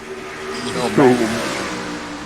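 Race car engines in NASCAR Racing 2003 drone steadily at close range, with one car's note rising briefly as it revs, all beneath continuous commentary.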